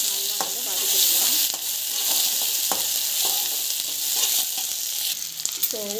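Chana dal sautéing with ginger garlic paste in a pan, a continuous bright sizzle with intermittent scraping strokes of a spoon stirring the mixture.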